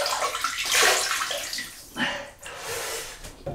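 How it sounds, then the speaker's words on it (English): Water splashes onto a face being wetted at a sink ahead of a Sunday wet shave, a few close irregular splashes and drips with running-water wash throughout. "let's wet the face and see how we get on"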